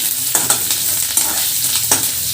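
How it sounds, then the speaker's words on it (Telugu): Onions and curry leaves fry in a pan with a steady close sizzle, punctuated by a few sharp scraping stirs of a spoon against the metal. "కరివేపాకు కూడా వేసుకొని బాగా వేసుకోవాలి, పచ్చివాసన పోయేంత వరకు"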